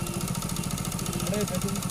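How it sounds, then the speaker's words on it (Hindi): A motorcycle engine idling as the rider stops on a lonely road, a steady mid-pitched rumble with a faint rhythmic pulse running under a person talking. "तभी अकेली लड़की को सड़क पर देख एक बाइक वाला रुकता है"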